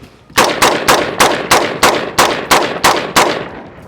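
Ten sharp shots from an H&R 723 rifle fired at a target at a steady pace, each a loud crack with a short decay, close by and clear.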